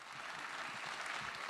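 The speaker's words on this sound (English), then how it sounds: "Let's have a nice applause for Ken Winokur and Terry Donahue." Audience at a film festival Q&A applauds the musicians; brief, dense, fairly quiet clapping from a crowd, steady and unbroken.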